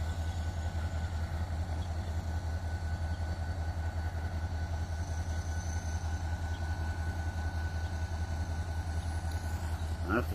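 Susquehanna engine 3018 idling in a Binghamton, NY rail yard while switching grain cars, a steady low diesel throb that holds for the whole stretch with a faint metallic squeal near the end.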